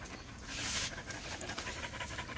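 Newborn puppies, found abandoned in the bush, pant in quick, soft, breathy bursts close by. A faint whimper-like tone runs through the steady panting for a couple of seconds, with no voices.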